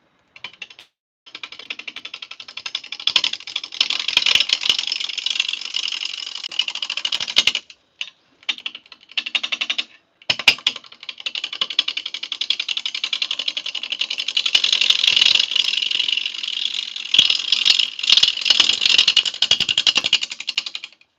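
A wood lathe on a free-standing stand that isn't bolted down rattles and clatters loudly as it runs, a dense metallic chatter nearly continuous for the whole stretch with a few brief dropouts.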